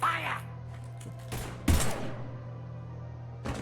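A few sharp gun blasts ring out in a Mass Effect firefight, with a loud burst near the middle and a last shot at the end over a low steady background hum.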